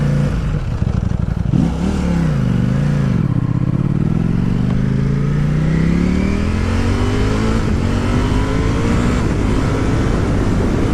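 Ducati Panigale V4 S motorcycle on an open road, its engine loud and close as it revs up and down through repeated rising and falling sweeps, with steady wind rush and no talk.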